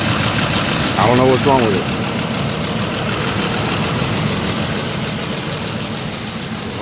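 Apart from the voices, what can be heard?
2005 Lincoln Navigator engine idling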